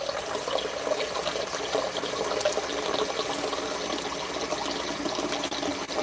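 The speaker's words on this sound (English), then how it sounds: "I'm running water to get hot water there." Tap water runs steadily from a kitchen faucet while a cook waits for it to turn hot, a continuous close splashing gush with no talk over it.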